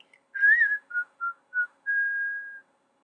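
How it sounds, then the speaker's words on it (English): A short whistled phrase of several quick notes followed by one held note, clear and close with nothing else behind it. "Whistle while you work."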